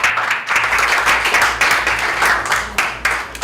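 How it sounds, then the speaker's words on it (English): Students in a ninth-grade class clapping hands together, a loud, close burst of irregular group claps that pulses in uneven waves throughout. "Let's clap our hands"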